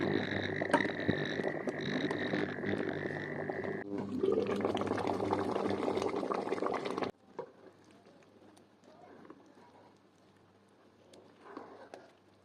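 A pot of tomato soup with ewedu molokhia leaf bubbles on the stove, a close, steady bubbling and gurgling for about seven seconds before it drops to a faint simmer.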